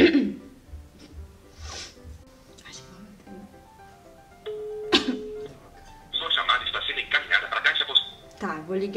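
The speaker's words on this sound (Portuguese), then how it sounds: "Tô ligando pro Caio." A telephone call being placed: a steady tone followed by a rapidly warbling ring signal from the handset, near and moderately loud, with people talking before and after it.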